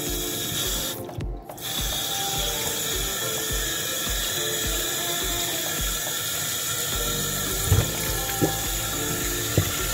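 Tap water runs steadily over a thawed turkey in a kitchen sink, a continuous close splash with a few small clunks near the end and no talking.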